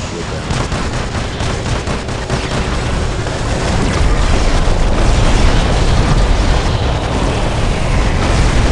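An amplified charged shot explodes in the War Robots battle game, a loud, sustained roar of blasts and rumbling booms that swells and stays dense for several seconds.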